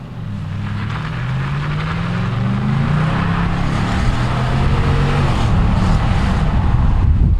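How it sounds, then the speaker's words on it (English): A Ram pickup truck's exhaust roars and rises in pitch as it accelerates, loud and close, with steady rain and wind noise washing over it. "Here we go. Here's an exhaust note."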